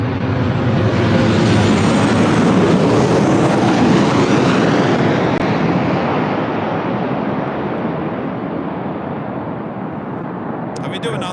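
A passenger jet at LAX roars loudly and steadily, its broadband rumble swelling and then slowly fading across about eleven seconds with no talk over it.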